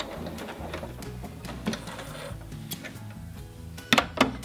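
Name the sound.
sewing machine sewing stay stitches on baby onesie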